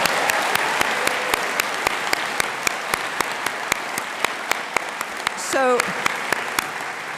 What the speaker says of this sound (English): Let's give a big round of applause for all of those folks.